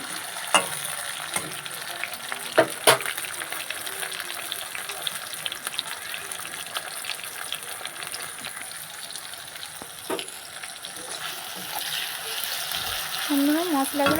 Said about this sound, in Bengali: তারপরে দেব টমেটো কুচানো দিয়ে একসাথে সবগুলো ভালো করে ভেজে নিতে হবে